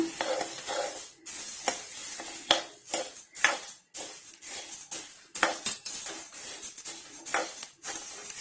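Coriander seeds roast in a little oil for sambar powder, giving a soft sizzle broken by repeated scraping and stirring strokes of a utensil against the pan, close and with no talking.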